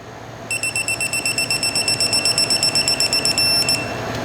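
Rapid electronic beeping from a device used on a Honda CX500 motorcycle, a steady train of short high-pitched pulses about seven per second, continuous for several seconds over low background hum.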